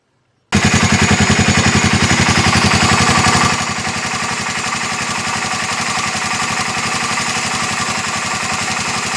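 Honda FourTrax 300 ATV engine starting and running steadily, a loud rapid chugging pulse that drops slightly in pitch and volume partway through, then settles into an even idle with no voices.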